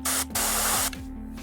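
An airbrush sprays black paint in a steady hiss onto the fur of an Ogor miniature from Age of Sigmar. There are two close, loud bursts, the second and longer one followed by a softer trailing spray.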